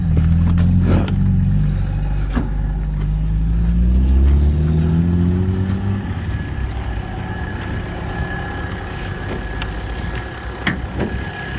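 A van engine runs nearby, rumbling low and steady with a brief rise in revs early on before settling back to a smooth idle.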